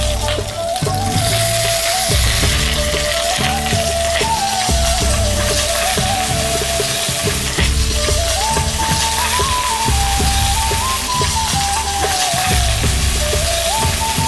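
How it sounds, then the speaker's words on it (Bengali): Cauliflower, potato, pumpkin and carrot fry in a pan, giving a steady broadband sizzle that runs under a louder melodic music track throughout, with no voices. "ফুলকপি আর আলুটা একটু ভাজা ভাজা হয়ে এসছে, আমি এর মধ্যে দিয়ে দিচ্ছি কুমড়ো আর গাজর।"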